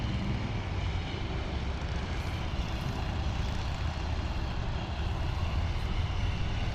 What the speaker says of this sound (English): I think we're gonna follow this Bombardier.